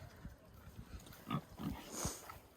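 Pigs grunting as they compete for food, quiet, scattered low grunts and snorts in irregular bursts, faint and close, with no talk.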